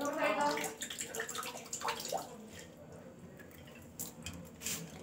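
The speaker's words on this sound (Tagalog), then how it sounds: "patayin natin, guys, yung tubig" Tap water runs and splashes faintly into a basin, with soft drips and trickles and some nearby voices over the quiet flow.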